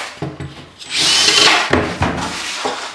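A power drill bores a clean hole through the panel of a kitchen sink cabinet. A few short taps come first, then a loud, rising whirr of cutting, followed by scattered knocks and scraping as the bit finishes.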